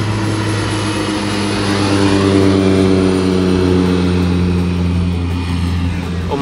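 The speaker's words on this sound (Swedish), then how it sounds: "Och massa flygplan som tar av hela tiden." Aircraft near Key West, with a loud, steady engine drone holding throughout and no break.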